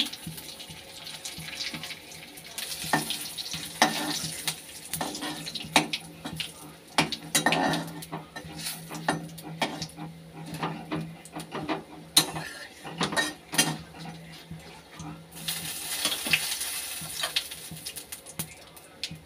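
Dried red chili and a bay leaf sizzle in hot oil for a paneer and potato curry, a steady close hiss broken by sharp metal clinks of a utensil against the pan.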